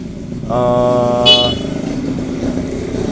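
A motorcycle electric starter motor cranks with a slipping starter gear, a loud whirring whine that spins up for about a second with a brief high squeal, then drops back to a low idle-like rumble.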